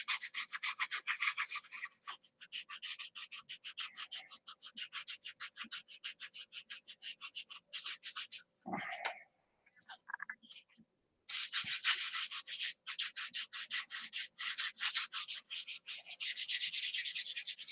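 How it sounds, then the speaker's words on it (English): Rhythmic back-and-forth rubbing of 2000 grit sandpaper on a painted surface during paint prep, close and steady in fast strokes, with a short pause midway before the scrubbing resumes. "he also gets the tough part of sanding it with 2000 grit sandpaper and buffing it"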